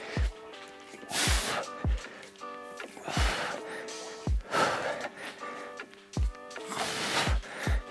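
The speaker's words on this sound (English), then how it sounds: "So you can hear me breathing." Heavy, rhythmic breathing from a kettlebell and BOSU ball workout comes as repeated loud, harsh exhalations, about one every second or so, close to the microphone, with background music playing underneath.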